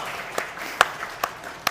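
A conference audience gives a thin, scattered applause of a few separate claps spaced roughly half a second apart, sparse and moderately close.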